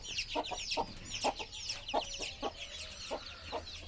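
Farm chickens cluck in a steady, rhythmic series of short calls, with other fowl chirping faintly in the background, fairly close by.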